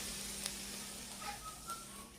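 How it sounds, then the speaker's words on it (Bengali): Potatoes fry on a kerosene stove, giving a faint, steady sizzle and hiss with a few brief higher whistling tones. "আর এখানে যে আলু ভাজা করছি, এখানে হচ্ছে আলু ভাজা।"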